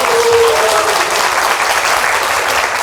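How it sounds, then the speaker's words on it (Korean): Audience applauding at a Korean book concert for author Nam In-sook, a steady dense wash of clapping filling the room for about three seconds with no talk over it. "이때 박수 한번 주세요"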